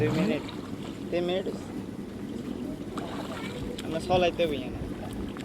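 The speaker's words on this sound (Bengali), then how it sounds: "বেউলা দিয়ে পানিতে নৌকার মতো মাঝি হয়ে বাইব" A small beula boat is rowed across water during fishing, with steady sloshing and wind rumble under voices that talk on and off throughout.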